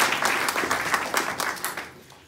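An audience gives a big hand to a hospital ENT team, a dense crowd applause of many clapping hands, fairly loud and steady, tapering off toward the end.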